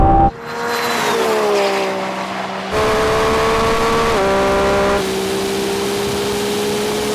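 A Lamborghini Revuelto and a Ferrari 296 and SF90 launch in a drag race from second gear at 30 mph, engines screaming loudly as they accelerate with clear gear-change drops in pitch, no talking.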